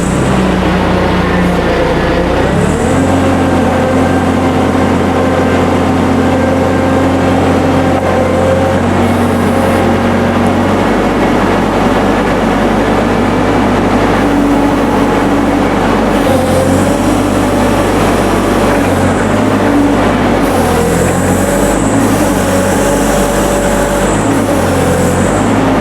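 A new 3500 lb capacity LP cushion forklift engine idles steadily at close range, a smooth continuous low hum running without a break and with no talk over it.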